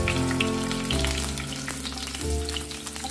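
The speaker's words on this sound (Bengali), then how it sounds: "ফ্রাইং প্যানটা গরম হয়ে গেছে অলরেডি, আমি অয়েল দিয়ে দেব, এটা হলো সয়াবিন অয়েল" Chicken pieces frying in soybean oil in a hot frying pan, a steady close sizzle and crackle with a low background hum, no talk.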